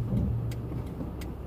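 A car engine labours to start, a steady low mechanical drone with faint uneven pulses running throughout, fairly close and without talk.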